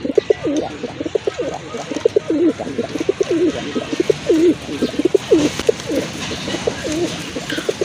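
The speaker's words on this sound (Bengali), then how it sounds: "আরেক জোড়া করা কবুতর" Pigeons coo steadily at close range, repeating soft throaty calls in a continuous rhythmic chorus with no pauses.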